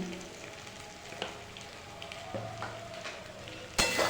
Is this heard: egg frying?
yes